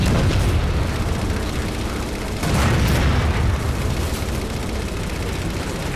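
Tank explosions in Halo 4 keep up a loud, dense roar of booms and blasts, with a heavier burst partway through and no pause.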